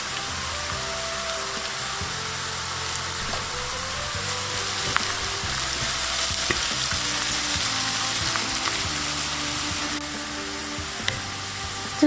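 Onions fry in hot oil with turmeric, a loud, dense crackling sizzle that carries on without a break, with scattered utensil clinks and stirring scrapes and no speech.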